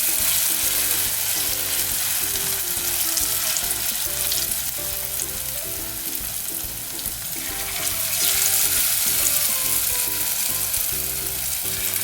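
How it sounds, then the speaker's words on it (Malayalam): Pieces of beef for Beef 65 fry in hot oil, making a loud, continuous close-up sizzle with crackling and bubbling that surges slightly and then holds steady throughout. "ഇനി അത് ചൂടായി കഴിയുമ്പോൾ അതിലേക്ക് നമുക്ക് ഇതിട്ടിട്ട് ഫ്രൈ ചെയ്തെടുക്കാം, ബീഫ് ഇട്ടിട്ട്."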